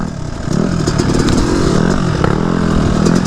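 A two-stroke dirt bike engine revving high in the woods, a loud close buzzing drone that climbs after a brief lower start and holds with wavering pitch throughout.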